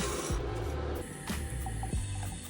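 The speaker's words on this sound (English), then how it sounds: "grate carrot and put it in your morning porridge" Carrot rubbed against a grater for morning porridge gives a steady close rasp with a few sharper strokes, and there is no talk.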